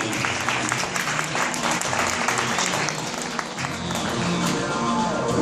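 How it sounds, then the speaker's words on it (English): A crowd applauds a model on the runway at a fashion show, the clapping loud, dense and continuous for several seconds with no voices standing out. "One more round of applause for this beautiful young lady."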